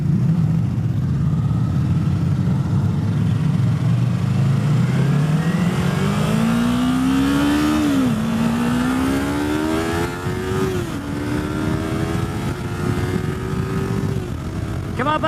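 A 2018 Yamaha R3 motorcycle revs hard and accelerates, its engine note climbing steadily with brief dips at gear shifts, loud and close throughout with rushing wind noise underneath.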